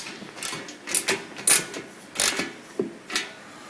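A wrench tightens U-bolt nuts on the axle of a Shetland cart, producing a series of short mechanical clicks and ratcheting creaks spaced irregularly, close and moderately loud.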